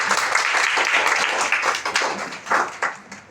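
A group of children claps for a classmate at a spelling competition in a short burst of close, lively clapping that thins into a few scattered claps as it winds down.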